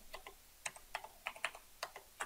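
Keys clatter on a computer keyboard in an irregular burst of close, light clicks, typing a component name into a search field, with no other sound around.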